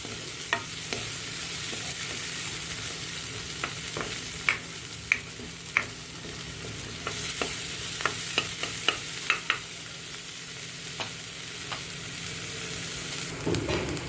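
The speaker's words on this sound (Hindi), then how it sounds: "प्याज को लाइट ब्राउन होने तक भूनेंगे" Finely chopped onion frying in a pan for an Uttarakhand bhatt ki chutkani, a steady low sizzle running throughout with scattered sharp clicks and scrapes from stirring.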